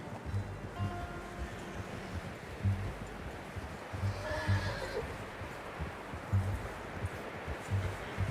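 Horse whinnying in the video game Red Dead Redemption 2, a faint neigh in the middle amid steady game ambience of rhythmic hoof thuds and low background rumble.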